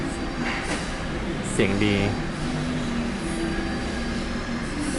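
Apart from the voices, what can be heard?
train arriving at platform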